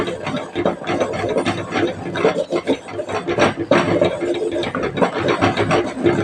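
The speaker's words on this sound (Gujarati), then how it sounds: "અહીંયા આપણે લોટને થોડો થોડો કરી ઉમેરી દઈશું અને ગેસ આપણે ધીમો કરી નાખ્યો છે અને હવે આપણે સતત આપણે હલાવશું આને" Wheat flour is stirred constantly in a pan over a low gas flame, giving a close, continuous rhythmic scraping and rubbing.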